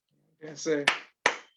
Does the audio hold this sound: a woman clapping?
yes